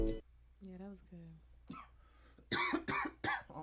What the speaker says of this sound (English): I'm sick of coughing, yo.